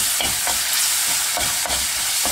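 Turmeric, coriander powder and spices frying in an onion gravy while being stirred in a pan, giving a steady loud sizzle with repeated scraping strokes of the spoon and no talking.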